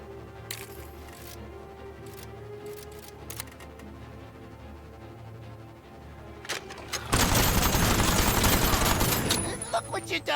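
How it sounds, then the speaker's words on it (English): Shotgun blasts and rapid Gatling gun fire from the vehicle combat game Aether & Iron: scattered sharp shots early, then a loud dense burst of continuous gunfire near the end over game music. "Shoot shotgun. Shoot Gatling gun."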